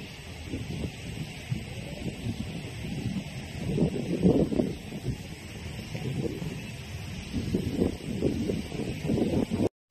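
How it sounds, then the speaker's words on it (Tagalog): Strong wind buffets the microphone in low, rumbling gusts that swell and fade, with faint rustling underneath. "Lakas po ng hangin, no?"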